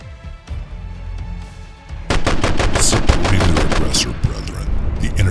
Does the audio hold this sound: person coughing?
no